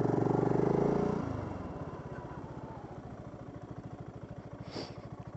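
A BSA Goldstar motorcycle pulls away in first gear on UK roads, its single-cylinder engine loud at first, then settling into a steady, close, rapid low thump as it rides on.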